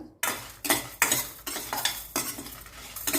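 Rice and dried red chillies dry-roasting in a pan while a spatula drags and scrapes through them in regular strokes about every half second, close and clear, with no one talking.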